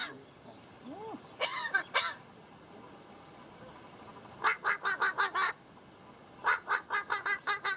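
A rescued, human-raised crow vocalizes in bursts of rapid, harsh, cackling calls, imitating sounds like laughter, after a few rising squeaky notes, with quiet pauses between the runs.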